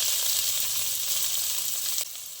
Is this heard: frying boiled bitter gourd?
yes